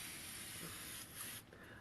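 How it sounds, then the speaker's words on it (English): Evian facial mist sprayed onto a face: a steady, soft hiss of fine spray lasting over a second, close and quiet, tapering off at the end. "I love spraying things on my face."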